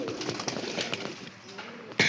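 Soft, low pigeon cooing repeats faintly beneath a steady background hum, ending with a sudden louder rustle or bump.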